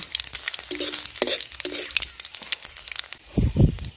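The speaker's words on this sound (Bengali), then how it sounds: "গোটা গরম মশলা দিলাম, গোটা জিরে ফোড়ন দিলাম। ফোড়নটা একটু আমি নেড়ে নেব।" Whole garam masala and cumin seeds temper in hot oil, a close sizzle broken by the scrape and clatter of stirring. A louder crackling burst comes near the end.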